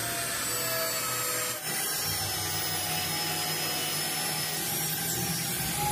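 A magnetic drill runs continuously with a loud, steady motor whine and hiss, dipping briefly after a click before carrying on at full power.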